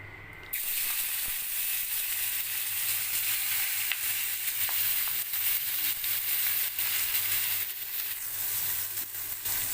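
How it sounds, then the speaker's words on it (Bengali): Onions frying lightly in hot oil, a dense continuous sizzle and hiss that kicks in after a brief quiet start and holds steady, close up, with no talking. "পেঁয়াজটা একটু হালকা করে ফ্রাই করব"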